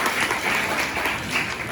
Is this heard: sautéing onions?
no